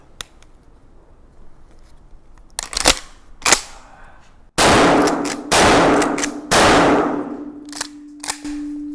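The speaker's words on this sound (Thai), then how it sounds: "เรียกว่าครั้งแรกของผมเลยนะฮะที่ยิง ลูกซองที่มีสปริง ตรงกระโจมแบบนี้นะครับ" A Mertmak pump-action shotgun with a compact 12-inch barrel fires loud blasts outdoors, preceded by metallic clacks of the action being worked, then several booming shots with long decaying tails.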